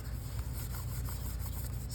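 A magazine collage is sanded to dull its glossy surface, giving a steady, close, dry rubbing scrape that continues without a break.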